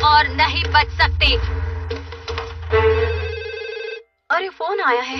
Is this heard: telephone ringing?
yes